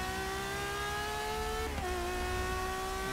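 A Ferrari race car in Forza Motorsport 6 drones at steady high revs, its engine note holding level then dipping briefly mid-way before climbing again, loud and continuous with no talk.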